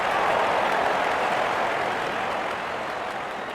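A stadium crowd in the Real Cricket video game, during an IPL match between RCB and LSG, applauds a six that brings up a fifty: dense, continuous clapping that eases slightly toward the end.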